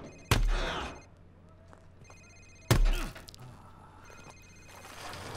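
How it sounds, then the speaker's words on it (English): Cell phone ringing during a tense interrogation scene in the video game Call of Duty 4: Modern Warfare Remastered, with two loud thumps and short bursts of ringing tone spread across the clip. "Sir, it's his cell phone."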